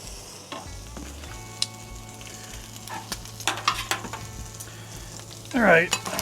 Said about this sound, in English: Start frying up some onions.